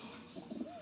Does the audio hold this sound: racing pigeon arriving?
yes